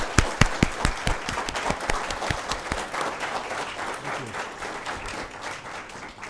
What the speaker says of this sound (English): let's give her another round of applause for her.